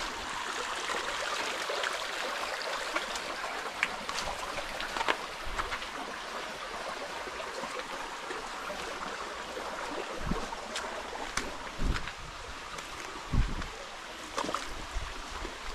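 Water rushes steadily out of a punctured pipe being set up to supply a farmhouse in the countryside, a continuous splashing hiss broken by a few low thumps.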